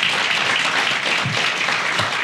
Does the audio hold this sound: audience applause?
yes